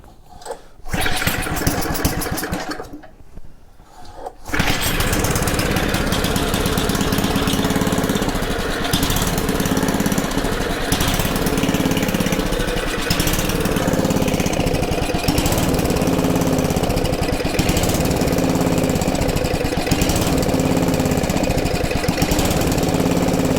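Troy-Bilt rototiller engine roaring steadily at full throttle, loud and close, after a brief quieter stretch early on; a dense continuous drone with no talk.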